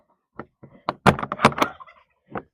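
A turkey lets out a loud, rattling gobble up close, with a few short clucking notes before and after it.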